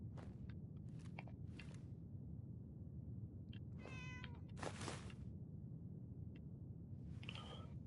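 A cat meows a few times in a video game, short separate calls spread across a steady low background hum.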